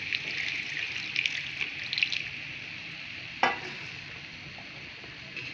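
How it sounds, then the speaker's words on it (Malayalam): Hot water goes into chicken and potatoes cooking in a pan, with a soft hissing sizzle, light splashing and stirring, and one sharp clatter partway through. "ഇനി നമുക്കിതിലേക്ക് വെള്ളം ഒഴിച്ചു കൊടുക്കാം ചൂടുവെള്ളമാണ് കേട്ടോ ഒഴിച്ചു കൊടുക്കുന്നത്"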